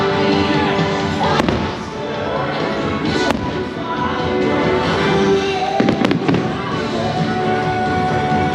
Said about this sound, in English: The fireworks had started.